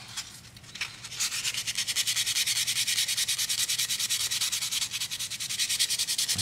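Steady rhythmic strokes of hand sanding on a wooden plectrum, a close, even back-and-forth scratching that starts after a brief hesitation and continues without pause.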